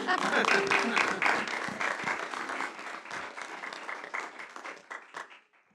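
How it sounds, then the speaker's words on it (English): Applause from the audience at a school board trustees' meeting, a steady wash of many hands that trails off over about six seconds, with a voice speaking over it. "That should get a hand clap"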